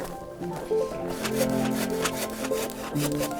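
A hand saw cutting through wood, steady back-and-forth rasping strokes in a continuous rhythm, close and moderately loud, with no talking over it.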